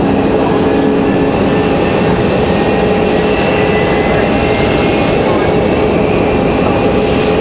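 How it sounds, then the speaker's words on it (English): Icelandair Boeing 737 Max engines spooling up at Raleigh-Durham airport, a loud, steady broadband jet roar and whine heard from a distance, continuous throughout. "So Iceland firing up here. You guys can hear that down there, that Max aircraft."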